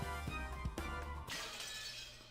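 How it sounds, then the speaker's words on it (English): A glass-shattering sound effect from the visual novel Umineko When They Cry: a sharp, loud crash that scatters into a bright, tinkling burst of breaking glass and then fades slowly. "Oh, shatter."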